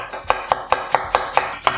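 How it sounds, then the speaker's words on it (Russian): A knife chops fresh young cabbage finely on a cutting board in a home kitchen. The sharp, evenly spaced strikes come about every quarter second, close and clear, with no talk. "Возьмем капусты свежей, молодой, меленькой нарезаем."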